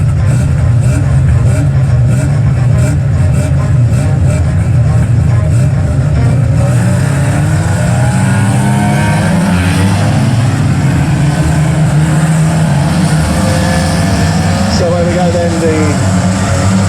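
Rookie rod race cars pull away at the start of a heat at Aldershot Raceway, a dense rumble of engines rising in pitch as they accelerate, with a commentator talking over the noise throughout.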